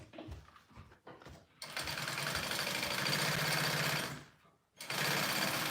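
A sewing machine bastes fabric onto foam for a sling, sewing in close, loud, rapid mechanical chattering runs: a brief stutter, then a long steady stretch that stops and starts again, with faint handling noise in between.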